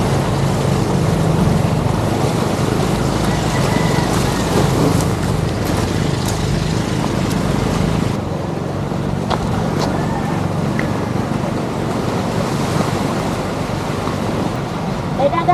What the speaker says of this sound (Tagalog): sa mga oras na to ay sasakay na po pala kami ng bangka